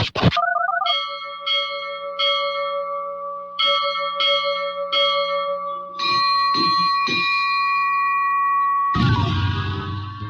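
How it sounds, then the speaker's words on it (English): A ship's bell on a radio broadcast rings in clear, resonant strikes, several in a steady sequence with lingering tones, then a final clang cut off by a burst of noise. "When you hear the ship's bell"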